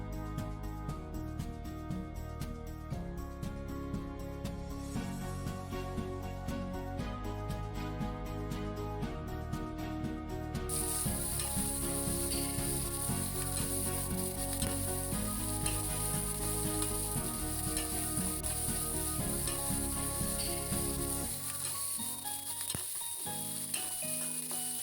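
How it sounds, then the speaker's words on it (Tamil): Onion fries in a pan with fennel seeds, poppy seeds, cumin and pepper for a Madurai-style chicken gravy; a soft, continuous sizzle runs steadily throughout with faint stirring and no talk. "இது கூட நம்ம எடுத்து வச்சுருக்க சோம்பு, கசகசா, ஜீரகம், மிளகு இது எல்லாத்தையும் நல்லா வதக்க போகிறோம்."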